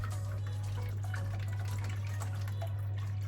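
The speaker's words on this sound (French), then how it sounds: "Donc on va mettre 500 ml de lait" Milk pouring into a measuring cup while mixing a chocolate gingerbread batter, a close continuous liquid trickle and splash over a low steady hum, no talking.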